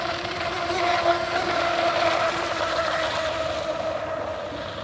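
An Aquacraft Motley Crew RC boat motor runs flat out at full throttle, a steady, unbroken buzzing whine heard from a moderate distance across the water with no talk.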